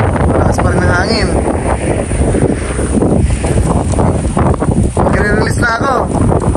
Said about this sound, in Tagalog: Malakas pa rin ng hangin.